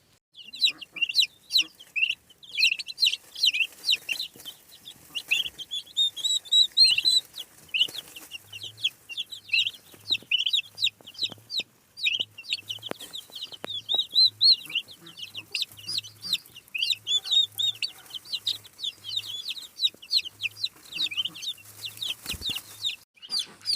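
Constant high-pitched peeping of many chicks and young turkey poults close by, overlapping chirps with occasional soft low clucks underneath.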